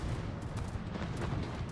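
Bombs exploding in a video game come as a dense run of low, rumbling booms and blasts overlapping one another, loud and continuous, with no voices over them.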